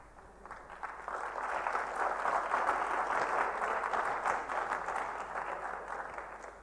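Sustained applause from a room full of people at a valedictory session, a steady dense patter of clapping that swells and then slowly tapers.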